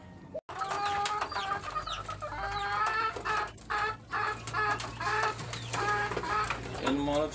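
Farm chickens cluck at feeding time, a busy flock of repeated clucks and calls close by over a low steady hum, with a brief sharp knock near the start.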